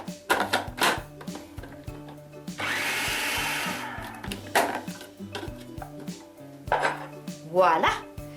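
Food is chopped finely with a blender in a home kitchen while cooking water is added, a short loud whirring burst amid clinks of dishes and utensils, with brief talk around it.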